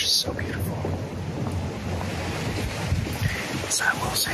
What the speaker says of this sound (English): The sound of the wind in the trees is just so beautiful.